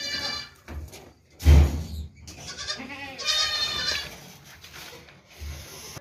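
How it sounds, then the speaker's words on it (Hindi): A pure desi dairy goat bleats in a few wavering, nasal calls, close and fairly loud, amid rustling and rubbing sounds at a livestock sale. "दूध वाली प्योर देसी बकरी है।"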